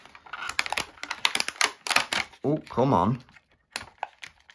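Small scissors cutting twine and plastic packaging on a Teenage Mutant Ninja Turtles Mutant Mayhem toy box make a quick series of crisp, close snips and clicks, with a brief spoken complaint partway through.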